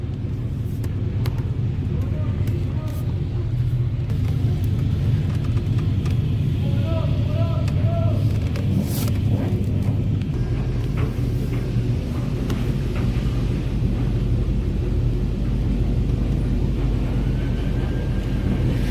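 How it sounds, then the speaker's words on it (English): An automatic touchless car wash running over a Chevy Tahoe, a loud, steady rumbling roar of spraying water and machinery that continues throughout, with a voice talking intermittently over it. "they send you through the car wash"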